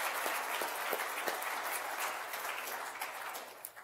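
An audience claps for a guest speaker at a university business event, a full round of applause with distinct individual claps standing out, strong at first and gradually fading toward the close.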